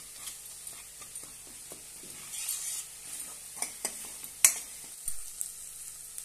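Masala for a pea and potato curry sautés in a pan with a soft sizzle and irregular clinks and scrapes of a spoon stirring. Quiet and close, with a sharper knock near the end.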